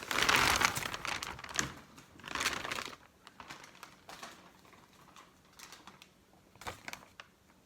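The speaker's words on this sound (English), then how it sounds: "you are going to hear crinkles here right now because I have a plastic bag" A plastic bag crinkles loudly up close in bursts as yarn is dumped out of it, with the rustling strongest early then tapering into sparse scattered crackles.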